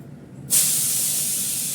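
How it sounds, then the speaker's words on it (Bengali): Potatoes dropped into a hot oiled pan just after fish has been fried set off a sudden loud, steady sizzle that starts partway in and keeps hissing evenly to the end, with a quiet lead-in before it. "আলুটা একটু ভাজা করে নেবো।"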